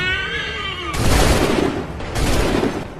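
A line of muskets fires in volleys during the Lexington battle in Assassin's Creed III, two loud, sharp booming bursts about a second apart, each trailing off into a crackling rumble.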